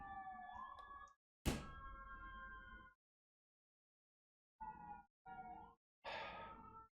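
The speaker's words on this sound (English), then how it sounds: "Y'all hear these sirens" Sirens of emergency vehicles passing outside in a city, rising and falling wails heard in several bursts with gaps of silence between them, fairly faint and distant, no talking over them.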